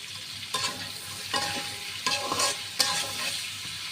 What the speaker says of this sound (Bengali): এই তেলের মধ্যেই আমি আলুগুলো একটু ভেজে নিব।